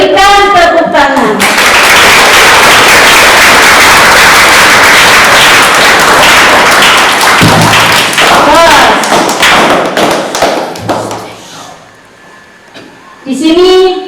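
A crowd at a Ramadan boarding school closing ceremony at an Islamic school breaks into loud, sustained clapping that roars for about ten seconds before fading, with voices and a child heard around it.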